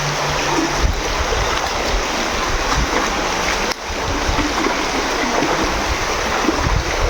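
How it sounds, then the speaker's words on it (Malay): Swift river water rushes loudly and continuously past close by at Taman Melawati, a dense, unbroken roar of flowing current. "Air agak deras"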